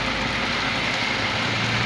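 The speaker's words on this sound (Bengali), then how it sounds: "সকালবেলা আসলে বৃষ্টির ভিতর হাঁটতে কেমন লাগে" Steady morning rain falls outdoors during a walk, a dense, even hiss that stays constant and fairly loud throughout, with no voices.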